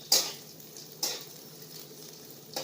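Green chillies roasting in a pan over low gas give a quiet, steady sizzle, broken by three sharp scraping stirs of a utensil against the pan, spaced about a second apart.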